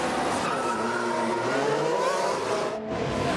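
Formula One race cars at the Chinese Grand Prix roaring at high revs, the engine whine sustained and shifting in pitch as cars pass, with a brief dip near the end.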